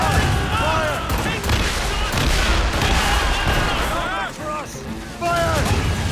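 Naval cannons fire broadsides in Assassin's Creed Rogue, repeated heavy booms under a constant roar of battle while voices shout throughout.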